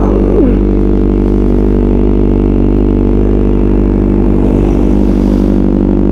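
A 2024 Kawasaki Ninja ZX-4RR with an Austen Racing muffler idles close by, a steady, loud, low engine drone holding constant throughout.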